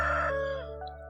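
A rooster in the Stardew Valley farming game crows once, a loud close cock-a-doodle-doo that rises and then trails off over about a second, with nothing else sounding.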